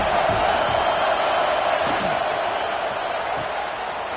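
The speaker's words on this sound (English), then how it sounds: "The Tide crowd rolling noise down on the Saban Field on third down." A dense Alabama Crimson Tide college football crowd at Saban Field roars steadily on third down against SMU, a continuous wash of noise with scattered shouts rising out of it.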